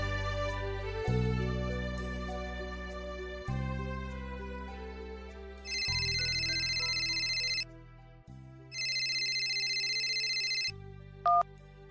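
A cellphone ringtone signals an incoming call, its bright melodic tone sounding in two sustained bursts over a steady musical backing, loud and close.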